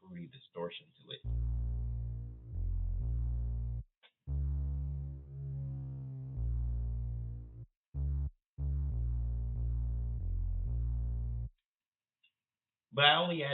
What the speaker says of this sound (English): this is what it sounds like when I've added the fruity distortion to it